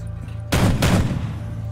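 Two quick, loud gunshot blasts ring out close by in a video game, each with a short crackling decay, set against a low steady background hum.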